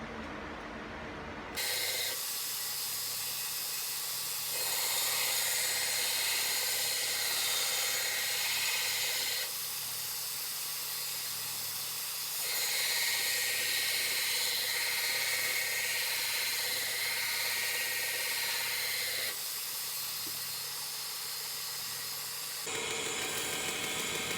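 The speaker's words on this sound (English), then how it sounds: "Now I have a 60 grit belt on my belt grinder, and I'm going to start roughing in the bevels." Belt grinder running a 60 grit belt to rough in the bevels on a san mai nakiri knife, a loud continuous whine and rasp that swells and eases as the blade is pressed on and lifted off.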